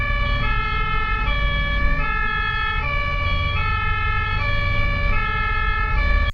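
Loud, nearby ambulance siren alternating between two pitches in a regular hi-lo pattern, cycling about every second over a low engine and road rumble, with no voices.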